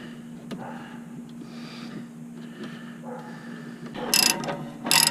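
A ratchet wrench tightens the bolts of a trailer hitch to the frame of a Buick Envision, giving short bursts of clicking, with a few sharper, louder clicks near the end and a steady low hum underneath.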